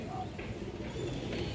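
Boot-beaked pigeons of an old breed coo softly at a pigeon farm, a faint, low murmur of cooing.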